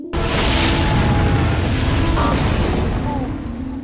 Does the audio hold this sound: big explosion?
yes